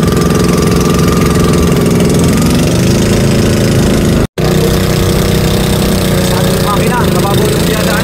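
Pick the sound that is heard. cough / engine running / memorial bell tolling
engine running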